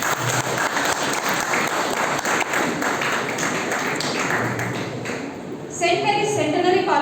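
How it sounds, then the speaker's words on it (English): Audience applause at a college Bitcoin workshop in Secunderabad, a steady dense round of clapping that fades slightly before a voice starts speaking at the end. "A big round of applause to all these colleges."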